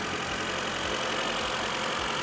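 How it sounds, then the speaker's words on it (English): A 2019 Abarth Competizione idles close by with a steady, even engine hum and no voices. "The engine started up right away."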